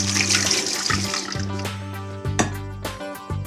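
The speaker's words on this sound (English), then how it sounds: "Strain this. And I like to give the quinoa another rinse now." Water runs and splashes while cooked quinoa is strained and rinsed, a steady continuous pour with gurgling and a few brief bumps, fairly close and without talk.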